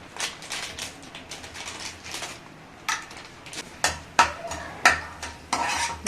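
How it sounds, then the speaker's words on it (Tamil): Cashew nuts frying in ghee in a pan, with steady sizzling and repeated scraping, stirring taps of a utensil against the vessel, sharper clinks growing more frequent toward the end. "கொஞ்சம் செவக்கிற அளவுக்கு முந்திரியை பொறிச்சு எடுத்துக்கலாம்"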